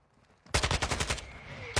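Rapid automatic gunfire in the online shooter Call of Duty: Modern Warfare II, a loud close burst of about a dozen sharp shots in quick even rhythm, starting abruptly after near silence, with another shot at the end.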